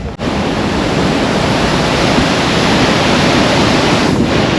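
Steady broadband rush of water pouring through a green, overgrown reservoir filter outdoors, loud and continuous throughout with no pauses or talk.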